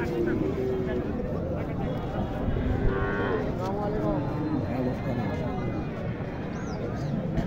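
Cattle moo at a busy livestock market where Sahiwal cows and calves are sold, low drawn-out lowing calls rising over steady crowd chatter and voices nearby.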